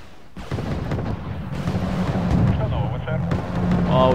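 Naval artillery firing in Wargame Red Dragon ship combat: deep booms and rumbling blasts over a dense battle bed, loud and repeated across a few seconds, with a person talking over them.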